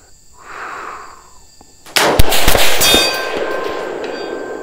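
A rifle bullet strikes a steel target at 500 yards, giving a single sharp metallic clang that rings on and fades slowly, after a faint hiss in quiet surroundings.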